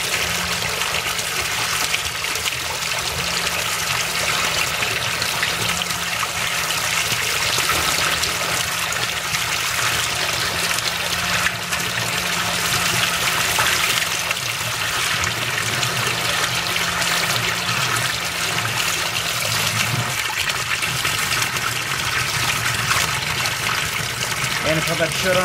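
Water gushes and trickles steadily as it drains during a test of a Basement Watchdog Pro Series 1730 sump pump, a loud, close, continuous splashing flow with a faint low hum underneath.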